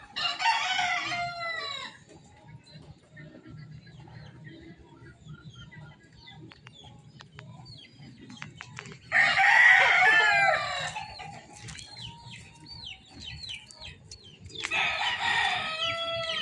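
A Boston Black straight-breed gamefowl rooster crows three times in loud, close calls separated by quieter gaps, with faint clucking and low background noise between the crows.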